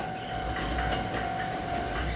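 Steady rolling rumble of a Choshi Electric Railway train nearing a station, wheels grinding with a faint high squeal and a steady tone, close and continuous.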